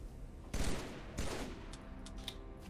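Halo 3 gunfire in a battle rifle fight: two loud, close bursts of shots about half a second apart, followed by fainter game noise and scattered small clicks.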